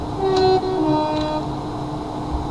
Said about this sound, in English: Ah, it's a locomotive, just signal him.